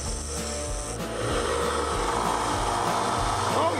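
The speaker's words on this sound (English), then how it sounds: "let me see how good this sander's gonna sharpen them things" A power sander grinds plastic pieces into sharp points, a continuous close rasping drone with a low rumble underneath that steadies and grows slightly louder, with no talking.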